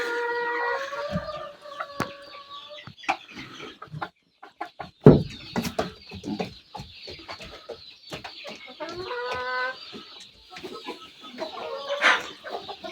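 Adult hens cluck and squawk in a coop, with several overlapping bird calls and scattered pecking and scratching thumps nearby, no talk.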